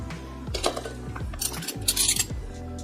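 An 1847 Rogers silver plate teaspoon set down onto a pile of flatware: a few close, bright metallic clinks and jingles as spoons and forks shift against each other, no voices.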